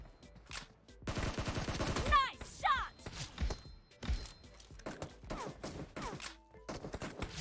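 Bursts of rapid automatic AK rifle fire from the mobile battle-royale game PUBG Mobile, several close volleys with thumping impacts in the first seconds, then scattered shots and game sounds with brief voice chatter over the top.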